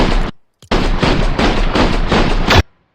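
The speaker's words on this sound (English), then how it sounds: "And then AR shots, miss a ton of them." Rapid bursts of assault rifle fire in Fortnite, loud and close, running as a dense volley of several sustained strings after a brief single shot, then cutting off abruptly.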